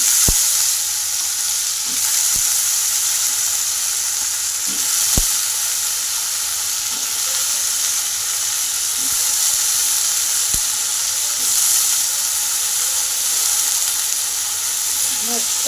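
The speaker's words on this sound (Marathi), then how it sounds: "मस्त फ्राय करून घ्यायचा." Chopped onion and potato with turmeric and salt frying in a pan for potato chutney, a steady close sizzle running throughout with a few sharp stirring clicks and scrapes.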